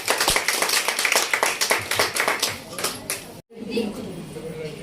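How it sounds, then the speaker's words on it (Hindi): Wedding guests at a restaurant reception clap loudly and briskly in a ragged burst of sharp, close hand claps, which stop abruptly and give way to room murmur and chatter. "भाई जोरदार तालियां बजाइए"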